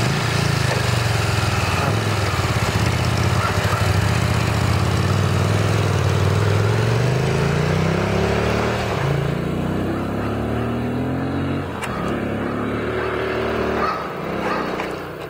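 A motorbike engine runs steadily and loudly up close, its low rumble rising and falling in pitch as the throttle is worked, then settling toward an idle near the end.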